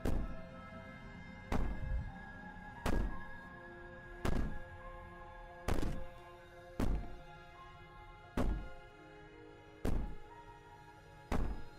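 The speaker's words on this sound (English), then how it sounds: "Maybe the banging and wailing will stop if you just don't pay attention to it." Heavy banging on a door in the video game Slay the Princess: nine loud, evenly spaced thuds roughly every 1.4 seconds, each a booming knock ringing out over a low, droning game background.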